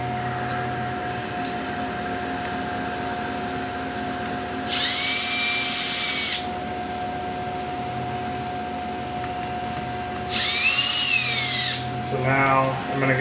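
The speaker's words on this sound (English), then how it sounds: "I'm just going to set using the torque clutch on the drill" Power drill driving screws into a milled hub fixture, two short whirring bursts of about a second and a half each, the torque clutch clicking briefly at the end, over a steady machine-shop hum.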